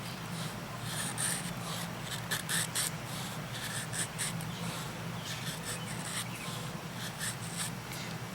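A knife blade shaving fine, thin tinder curls from wood in a steady run of soft, close scraping strokes with no talk over it.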